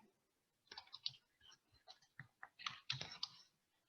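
Rapid clicking keystrokes on a computer keyboard, a quick irregular run of light taps heard close and fairly quiet for about three seconds.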